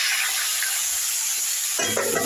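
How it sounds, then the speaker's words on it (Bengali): Potatoes dropped into hot oil in a wok, which still holds egg left from frying, give a steady loud hiss with a rougher burst of bubbling near the end. "আলুগুলো কড়াই ছেড়ে দিলাম"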